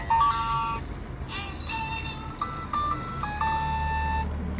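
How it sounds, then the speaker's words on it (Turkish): A children's toy bird bath set plays a short electronic tune of bright beeping tones in steady melodic steps, with a faint background hum. "Bak müzik buradan çalıyor."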